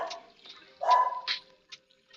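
A dog barks a few times in a short, irregular burst, sounding moderately close, with quiet gaps between the barks and faint background noise.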